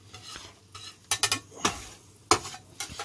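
Eggs frying in a pan give a soft, steady sizzle, broken by several sharp, close clinks and scrapes of a utensil against the pan. No one speaks.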